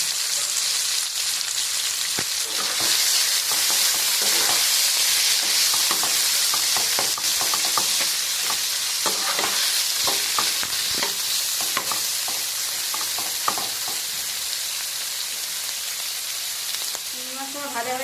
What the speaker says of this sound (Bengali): চিংড়ি মাছে নুন দিলে জল বেরিয়ে যায় জন্য নুন ছাড়া আমি ভাজবো